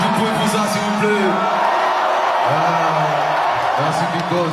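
Concert crowd cheering and whooping steadily throughout, dense and loud, with voices rising and falling across the mix.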